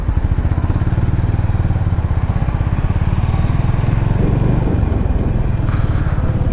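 Honda H'ness CB350 motorcycle engine running steadily and loud while riding near Naubise checkpoint, a continuous low throbbing thump with a faint rider's voice briefly underneath.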